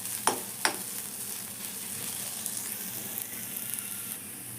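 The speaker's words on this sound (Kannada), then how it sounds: "ಕಾಯಿ, ಹಸಿಮೆಣಸು, ಜೀರಿಗೆ ಎಲ್ಲ ಹಾಕಿ ಮಿಕ್ಸಿ ಮಾಡಿದ್ರಲ್ಲ ಅದನ್ನು ಚೆನ್ನಾಗಿ ಫ್ರೈ ಮಾಡೋಣ." A paste of ground coconut, green chilli and cumin fries in a pan with a steady close sizzle, opening with two sharp spatula scrapes, then continuing as an even crackle with no one speaking.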